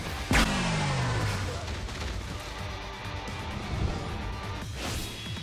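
Mayuri's soul bomb special attack in Bleach Brave Souls opens with a sharp blast and a descending whistling tone, followed by a sustained rumbling, crackling roar of explosions and a second burst near the end.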